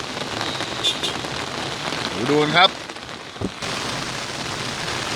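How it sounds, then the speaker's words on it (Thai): Heavy rain pours onto flooded rice fields in a steady, dense hiss of drops hitting water, while someone speaks briefly over it and a sharp knock sounds near the end. "ดูครับฝนยังตกกระนำตกเข้ามาเลยนะครับ"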